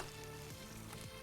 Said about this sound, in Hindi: बाकी हम इसको फ्राई होने देंगे